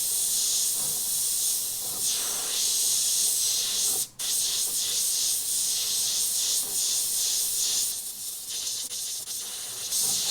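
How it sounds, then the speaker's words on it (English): An airbrush sprays white paint freehand in soft passes, a close continuous hiss that briefly cuts out once and then resumes with slight variations in pressure. "come in freehand and airbrush that in"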